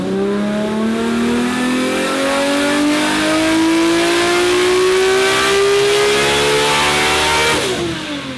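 A Nissan R32 Skyline GT-R, built past 800 horsepower, runs close by with a loud, steady revving as the engine pitch climbs smoothly for several seconds, then drops off sharply near the end.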